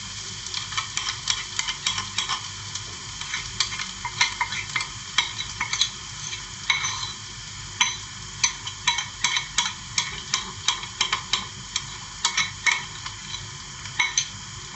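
Curry paste for dried chicken curry sizzles steadily in a pan while a utensil stirs and scrapes it in frequent, irregular clicks and taps, close and continuous.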